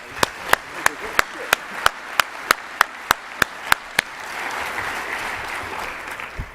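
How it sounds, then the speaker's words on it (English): Applause for panelists after a moderated Q&A, beginning as a dozen sharp, evenly spaced claps from one nearby person before spreading into a softer, broader round of clapping from the audience. "How about another round of applause for our panelists here?"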